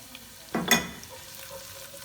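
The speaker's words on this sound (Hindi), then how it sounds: "इसको भी फ्राई करते हैं।" Garlic, whole dried red chilies and finely chopped green chilies hit hot oil for urad daal mash: a sudden close sizzle that flares for a moment and then settles into a faint, steady frying hiss, with no talk.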